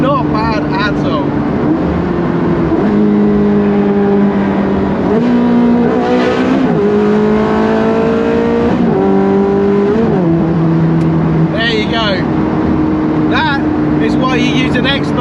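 Ferrari 360 Challenge Stradale with a single-clutch gearbox pulling hard: a loud, close engine note climbs through the revs, with quick upshifts dropping the pitch several times in succession, then a further burst of revving.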